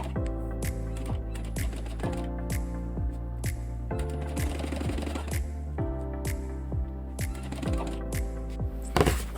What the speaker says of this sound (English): we have to stitch the zippers to see how they will look